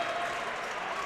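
A gym crowd at a high school boys' basketball tournament game, Diller-Odell against Exeter-Milligan, roars in a sustained, dense wash of cheering and shouting right after a big play.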